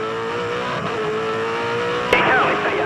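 Onboard V8 Supercar engine at Hidden Valley Raceway in Darwin, a loud sustained roar holding steady, then a sharp jolt and rising pitch as gears change, with a voice talking under the noise.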